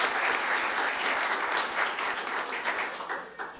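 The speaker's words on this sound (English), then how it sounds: "So a round of applause for our Troy Police Department." Audience applause at a fire department awards ceremony honoring a police department, a steady, dense wash of clapping from many hands throughout, moderately quiet and unbroken.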